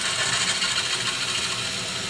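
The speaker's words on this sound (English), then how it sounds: "I'm just going to go up a few drill sizes till it comes out." Power drill steadily boring out a rusted, stuck exhaust bolt on a motorbike, a continuous loud grinding whir with no pauses and no talk.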